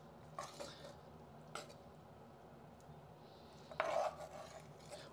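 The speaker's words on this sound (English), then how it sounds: "onto my plate, I'm just going to very simply spoon on my vegetables first." A spoon scrapes and taps as braised greens and corn are served onto a plate, giving a few soft, separate clinks and scrapes against a quiet room, with the last one slightly louder.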